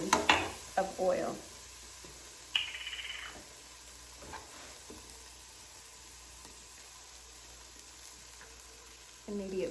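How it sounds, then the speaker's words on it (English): Onions frying in a tablespoon of oil in a pan while Ethiopian collard greens with potatoes are prepared: a loud burst of sizzling at first, then a steady low crackle with intermittent stirring. "Fry the onions"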